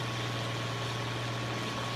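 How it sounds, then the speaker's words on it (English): A tractor engine idles in Farming Simulator 25, a continuous steady drone with a strong low hum, heard alone with no speech for the whole stretch. "It doesn't sound like the actual tractor."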